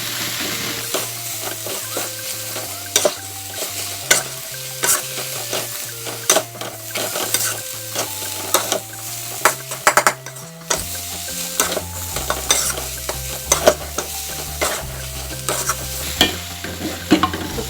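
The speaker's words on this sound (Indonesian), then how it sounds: "Masukkan sawi, aduk kembali hingga meresap." Rice vermicelli and mustard greens are stir-fried in a pan with a loud, repetitive clatter of a spatula scraping and knocking over a constant sizzling bed, keeping a steady rhythm throughout.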